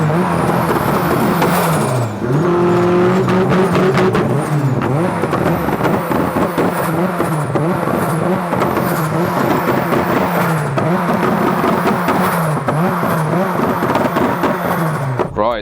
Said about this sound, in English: Just getting some of the cars warmed up.